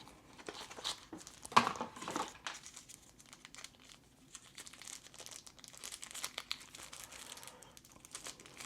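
Packaging around a DJI battery is crinkled and torn open by hand, with one sharp rip near the start and then scattered close crackling and rustling, quiet and without talk.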